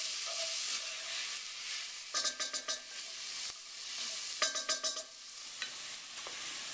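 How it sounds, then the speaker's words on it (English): Onions cooking down in a pan for arroz con pollo sizzle steadily, with two short bursts of scraping stirs breaking through the constant frying hiss. "Now while the onions are cooking down a bit"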